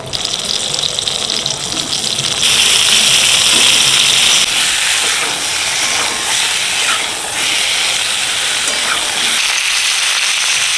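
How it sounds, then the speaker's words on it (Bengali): Pointed gourd (potol) slices frying in hot oil in a home kitchen pan, a steady loud hissing sizzle that swells partway through and holds continuously with no talk. "বেগুন ভাজা হয়ে গেছে এবার পটল ভাজাটা বসাচ্ছি"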